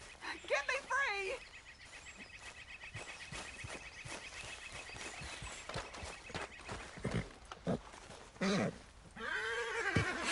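A horse whinnies loudly near the start and again near the end in the video game Red Dead Redemption 2, with hooves clopping and shuffling in between under occasional talk.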